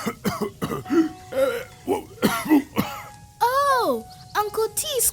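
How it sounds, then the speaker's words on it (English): A man coughs repeatedly after breathing dirty, smoky air, harsh bursts close by and mixed with throat clearing, while a voice speaks in between. "Uncle T is coughing because he's inhaling dirty air."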